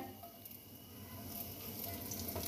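Chopped ginger and garlic frying in hot oil in a pan, a steady broadband sizzle that builds slightly louder toward the end, close and alone with no voices.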